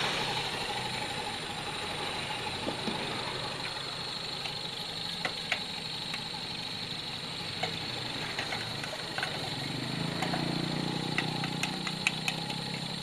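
A 2021 Honda Beat scooter engine idles steadily with a continuous mechanical whirr and faint rattling from the CVT rollers, loud and close, with no talking.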